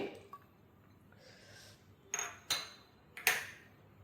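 Peas and chopped pineapple tipped into a bowl of Russian salad with carrot, giving a few sharp clinks of spoon against the dish, spaced apart in a quiet room.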